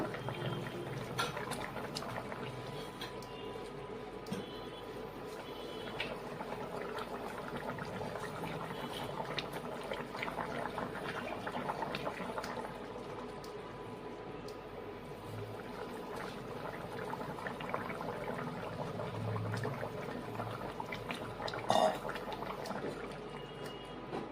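A pot of rui fish curry with ridge gourd, potato and pointed gourd simmers steadily, with a continuous low bubbling and liquid churning close by, and no talk over it.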